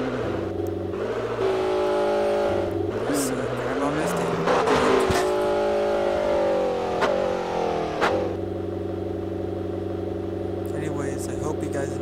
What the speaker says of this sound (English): let's get into a vehicle